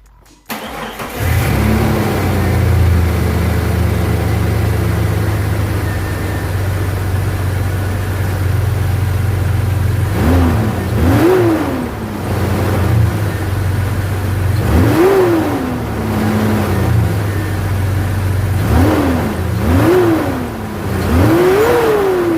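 A 2001 Jeep Cherokee 4.0 engine cranks and catches after new spark plugs and coil pack, settles into a steady idle, then is revved several times in short, rising bursts, loud and close.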